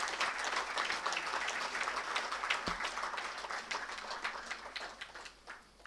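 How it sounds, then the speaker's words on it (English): Audience applause for participants at a moot court prize distribution ceremony, many hands clapping in a full, sustained roar that thins toward the end. "I would like to call upon a huge round of applause for all those participants"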